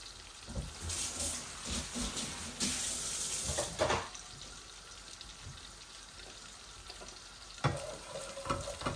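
Cumin seeds and bay leaves fry in about a spoonful of oil, crackling and sizzling steadily up close, with a few sharper pops and clatters mixed in.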